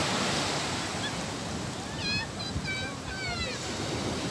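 Strong waves breaking on a beach at Sitio Liwliwa, San Felipe, Zambales, a continuous loud wash of surf with a few faint high bird chirps over it.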